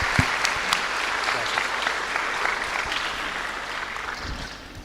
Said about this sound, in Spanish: un aplauso para el hermano